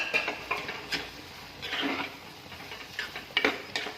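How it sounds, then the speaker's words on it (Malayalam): A spoon stirring grated coconut into a bean stir-fry (payar thoran) in a pan, giving soft scraping and light metallic taps in an irregular rhythm, close and fairly quiet. "ഇനി നമുക്ക് ഇതിലോട്ടേക്ക് ഒരു 1/2 കപ്പ് തേങ്ങ കൂടി ഇതിലോട്ടേക്ക് ആഡ് ചെയ്ത് കൊടുക്കാം. മിക്സ് ചെയ്ത് കൊടുക്കാം."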